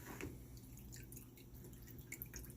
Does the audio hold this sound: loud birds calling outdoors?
no